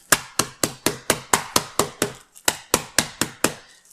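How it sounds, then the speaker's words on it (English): Rapid, steady kitchen hammer blows thud and crack against nuts in a plastic bag on a hard surface, about a dozen strikes with one brief pause midway. "if you put your nuts in a plastic bag and you use your kitchen hammer"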